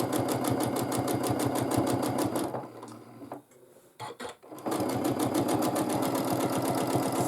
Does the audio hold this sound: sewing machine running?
yes